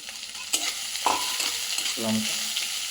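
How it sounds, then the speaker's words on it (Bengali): Soft sizzling of chopped onions frying in a pan, with scraping and stirring clatter from a utensil at close range; no one speaks. "তো হালকা একটু ভাজার পর আমরা দিয়ে দিচ্ছি পেঁয়াজ কুচি"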